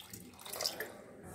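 A small pour of water goes into pongal cooking on the stove, a brief, faint splash and trickle close by.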